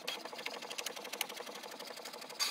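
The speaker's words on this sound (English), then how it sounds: "we're going to send it to the printer now" Printer printing a menu on heavyweight cardstock at best quality, a fast steady mechanical whirring and ticking rhythm close by, ending with a brief louder rush.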